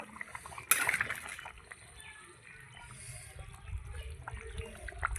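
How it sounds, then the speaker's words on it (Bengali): A thin mutton curry broth with potatoes bubbles and sloshes in a pot over a wood fire, with a sharp clatter near the start and a low, steady simmer underneath. "কাঠের জালে এত সুন্দর ফোটে না তরকারি, মাংস মাছ যাই বলো"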